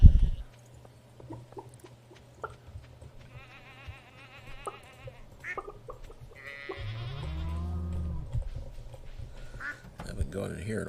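Sheep bleating in the Stardew Valley farming game during fall, wavering game animal calls heard in short bursts over background music, with a person talking in between.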